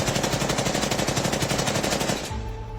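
Rapid automatic gunfire sound effect, a dense continuous burst of shots lasting a couple of seconds, loud and close, then cutting off abruptly into a low hum.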